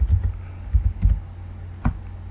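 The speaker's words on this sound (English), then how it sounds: "just start typing" Typing on a computer keyboard while filling in a table heading in a word processor: a few soft, scattered key clacks in short irregular bursts over a quiet room hum, with no speech.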